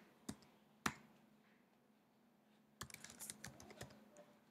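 A Mac computer keyboard being typed on: two isolated keystrokes, a pause, then a quick burst of crisp, close clicking keys.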